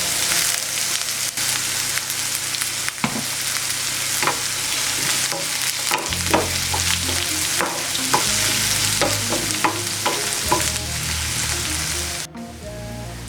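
Onions sautéing with a pinch of salt in a pan for an eggplant roast, a steady loud sizzle throughout with repeated stirring scrapes of a spoon, no voices.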